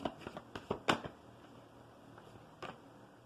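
Tarot cards are shuffled by hand in a quick burst of crisp riffling flicks, about half a dozen soft snaps close together, then a pause and one last brief flutter, quiet and close.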